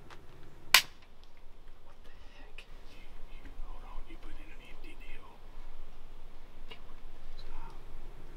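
A blackpowder muzzleloader fires with a single sharp, loud primer crack near the start during an Oklahoma hunt, followed by quiet outdoor ambience and faint rustling.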